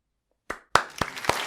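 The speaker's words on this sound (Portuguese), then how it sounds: "Palmas" A few sarcastic hand claps, about four sharp slow claps spaced apart, close and dry, with no talking.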